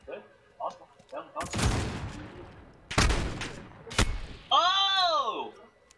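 Gunfire in a first-person shooter video game comes in three sharp, loud bursts spaced about a second and a half apart, followed by a short warbling electronic tone at the end.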